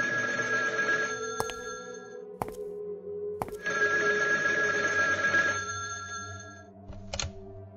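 An old telephone bell rings in the Paper Bride 5 horror game, two long loud bursts of trilling rings separated by sharp knocks, then a brief final jingle over a low eerie drone.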